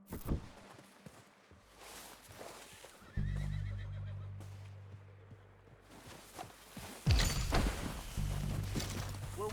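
Horses in the game Red Dead Redemption 2 whinny loudly several times at close range, with hooves clip-clopping between calls against an outdoor backdrop.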